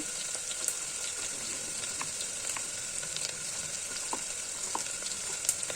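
Onion fries in oil in a pan for mutton gravy, giving a steady close sizzle with light crackling pops and faint stirring throughout, with no voices.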